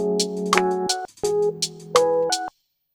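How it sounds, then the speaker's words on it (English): An OP-Z drum machine plays a boom-bap pattern with a clap landing slightly after a rim shot, crisp clicks and hits over short sustained synth tones, repeating twice then stopping cleanly. "I'm going to make the clap play slightly after the rim shot"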